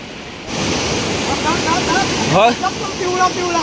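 Forceful stream water rushes steadily across a creek crossing during a crab-trapping outing, a broad close roar that swells after the first half second, with bird calls and brief talk over it.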